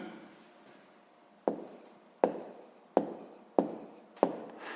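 A pen writes on paper while working a sixth-grade math exercise, giving a faint scratch followed by five sharp taps or strokes spaced at a steady rhythm, each fading quickly, close and clear with no talking.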